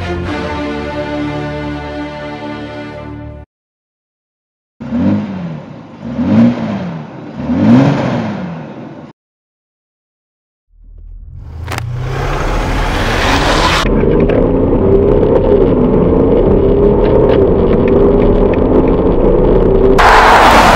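Mercedes-Benz E350 CDI 4MATIC diesel during a 0-100 km/h acceleration run: a steady, loud engine roar rising and holding behind a whooshing gear change, preceded by an idle and a few brief revs, with no talk.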